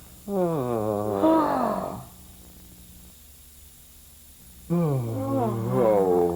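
Two long, drawn-out yawns voiced aloud, each a rising and falling moan, separated by a quiet pause with faint background hum.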